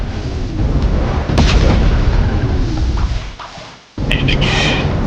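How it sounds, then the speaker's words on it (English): Booming nuke weapon blasts from Blox Fruits, a roblox game: loud sustained explosive roar with sharp impact cracks, a brief drop to near silence, then another heavy blast. "When you shoot this thing against the surface, look at the explosion and the impact."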